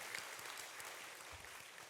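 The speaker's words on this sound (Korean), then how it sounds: "우리 할렐루야 찬양대에게 감사와 하나님께 영광의 박수 올려드리겠습니다" Quiet, distant clapping from a church congregation thanking the Hallelujah choir, a soft continuous patter heard at low level.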